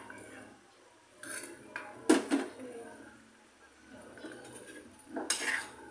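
Pot of food being stirred with a utensil, with clinks and scrapes against the cookware, louder bursts near the start and end between quieter stretches.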